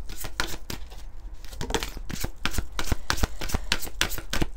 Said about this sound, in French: On va prendre quelques cartes de l'oracle Lumière de Fée.